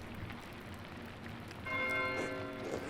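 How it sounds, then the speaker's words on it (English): Church bell tolling in the game Pentiment, starting partway through as a bright ringing tone with sustained overtones over a low ambient rumble, moderately loud and continuing to the end. "Why is Matthew ringing the bell?"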